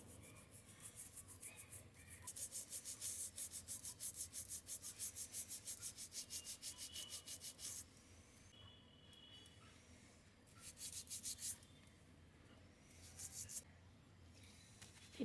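A brush scrubbing a conch shell clean, quick rhythmic back-and-forth rasping strokes, close and fairly quiet, coming in bursts with short pauses between them.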